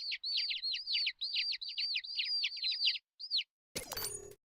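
High, rapid chirps from baby chicks inside a package in the You Don't Know Jack game repeat in quick runs, loud and close, then stop. A harsh, noisy burst cuts in at the end.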